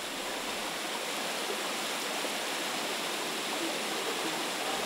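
A waterfall pours beside a large ladder in a gorge in the Tatra mountains, making a steady, unbroken rushing roar with no voices.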